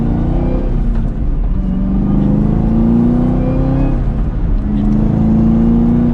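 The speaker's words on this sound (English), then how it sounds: "You can hear the exhaust, but that's about it." Steady, loud engine and exhaust drone from the car while driving, with rising pitch sweeps as it accelerates through gears, heard from inside the cabin with no talking.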